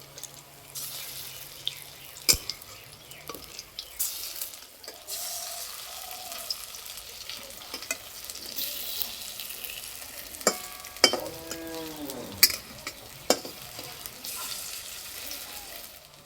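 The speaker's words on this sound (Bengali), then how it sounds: "এক পিঠ ভাজা হয়ে গেছে, এবার উল্টে দেবো।" An egg and potato snack fries in a pan with a soft, steady sizzle, broken by sharp clinks and scrapes of a utensil against the pan as the pieces are turned.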